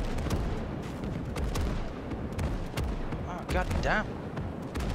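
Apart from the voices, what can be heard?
incoming artillery fire in video game Gates of Hell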